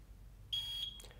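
A single sustained high-pitched electronic beep from a Marco SP9 coffee brewer sounds once in a quiet room, followed by a soft click.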